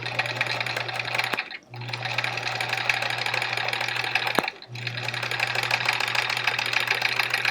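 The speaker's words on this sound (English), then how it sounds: "now I'm going to sew on either side about 1/4 inch" A domestic sewing machine stitches a fabric seam about a quarter inch from the edge, its steady motor buzz running loud and even, stopping twice briefly before resuming.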